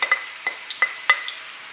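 Onion cooks gently in a pan over very low heat for a Mantuan pike-in-sauce recipe, giving a soft, sparse sizzle broken by light clicks and scrapes of stirring, with no talk.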